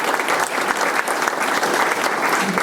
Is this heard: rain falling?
no